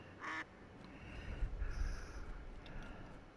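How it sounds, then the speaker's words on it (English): A single short, nasal duck quack sounds near the start, from the duck character in the PS5 game Duckside. Faint game ambience continues underneath it. "As soon as you hear your quack"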